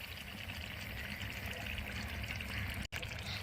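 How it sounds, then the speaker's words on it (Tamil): One cup of coconut milk pours steadily into a cooking pot, a continuous trickling liquid stream heard up close for a few seconds with a brief cut near the end. "1 கப் கோகோனட் மில்க் ஊற்றிருக்கோம்."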